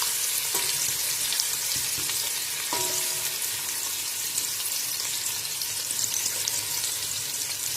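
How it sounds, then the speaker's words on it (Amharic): Sliced onion sizzles steadily in oil, a loud, continuous frying hiss with a few light clicks from stirring. "ሁሉንም በዘይቱ አብሬ ጠብሰዋለሁ ማለት ነው።"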